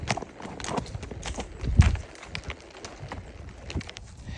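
Horses on a camping trail ride move over ground, with irregular soft hoof clops and rustling at moderate distance among outdoor background noise.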